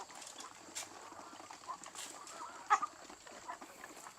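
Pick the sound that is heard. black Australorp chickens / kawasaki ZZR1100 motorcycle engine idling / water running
black Australorp chickens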